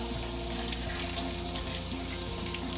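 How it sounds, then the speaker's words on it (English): Running tap water splashes steadily over an onion held beneath it, a continuous close rush with faint musical tones underneath. "Rinse it off again so it don't make me cry"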